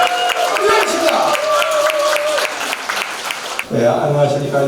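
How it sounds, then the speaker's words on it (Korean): Crowd applause at a Korean Democratic Party lawmaker's constituency report rally in Daejeon Seo-gu, dense and loud clapping that swells and then gives way to a voice over amplified speakers near the end. "자, 여러분 박수 부탁드리겠습니다."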